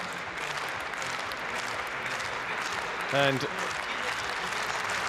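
A small crowd claps at an indoor athletics high jump competition, a modest steady patter under a commentator's voice, with a brief louder vocal burst near the middle.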